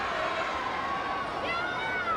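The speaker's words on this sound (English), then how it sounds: "The crowd says yes. The crowd says do it again." Arena crowd at a women's pro wrestling show cheering and shouting its approval, a broad, fairly distant roar that holds steady with no single voice standing out.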